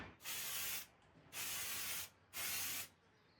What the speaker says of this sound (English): Spray a bit of glue on your stick